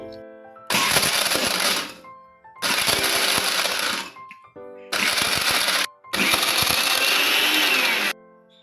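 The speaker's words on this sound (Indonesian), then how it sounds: "Nah, sekarang aku mau ngehancurin esnya dulu ya guys." A Mecoo 4 in 1 blender crushes ice in four loud, grinding bursts of a few seconds each, separated by short pauses, close up with no talking.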